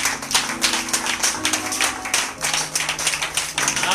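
A church congregation at a Sunday service applauding: steady, dense clapping from many hands throughout, continuous and fairly loud, with no talk over it.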